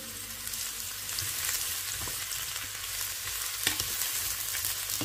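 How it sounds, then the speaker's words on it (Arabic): Mushrooms fry in melted ghee in a pan, giving a continuous close crackling sizzle with occasional louder pops and stirring scrapes. "هلا من بعد ما ساحت السمنه مزبوط رح انزل بالفطر."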